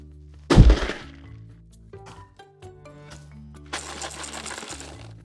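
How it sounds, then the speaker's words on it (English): A box dropped onto a hard surface gives one loud thunk near the start, and whatever is inside rattles and clatters briefly afterward. Scattered light knocks follow, then a stretch of rustling handling noise. "Same rattle as before."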